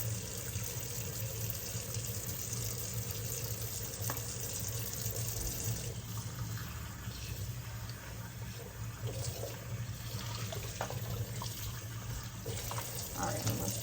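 Water from a sink tap runs steadily through the whole stretch while dishes are being washed, with faint clinks and handling noises mixed into the constant splashing.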